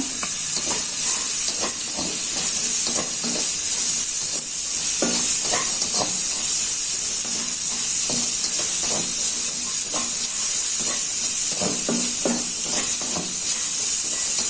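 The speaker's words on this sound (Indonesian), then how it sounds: "Ini untuk bawang merahnya saya tumis dulu. Bawang putih sama cabenya saya masukkan." Shallots, garlic and chili sauté in a pan with a small amount of oil, giving a steady close sizzle and hiss throughout and repeated scraping stirs of a spatula, with no talking.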